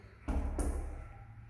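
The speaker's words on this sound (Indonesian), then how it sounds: "ketukan pintu" Two quick knocks on a door, sharp and close, followed by fading resonance with no voices.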